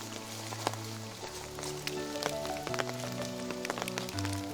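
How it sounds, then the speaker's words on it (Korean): Rain falls steadily through a forest on Jeju, a dense even patter with occasional sharper drips standing out, alongside low tonal hum and music-like sustained tones underneath, no speech. "꽃씨는 나를 빗소리 가득한 숲으로 안내했다"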